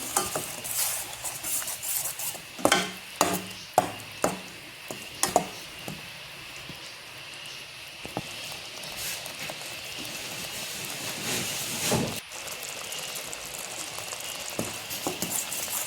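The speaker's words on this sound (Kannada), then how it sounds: "ಸ್ವಲ್ಪ ಹೊತ್ತು ಮೇಲೆ ತುಪ್ಪದಲ್ಲಿ ಫ್ರೈ ಮಾಡ್ಕೊಳ್ತಿದ್ದೇನೆ" Pineapple paste frying in ghee sputters and sizzles steadily up close, punctuated by loud irregular stirring knocks and scrapes against the pan.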